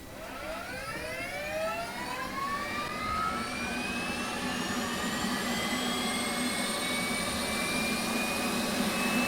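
An F/A-18C Hornet jet auxiliary power unit in the DCS flight simulator spins up, its whine rising steadily in pitch over a building roar until it holds loud and constant.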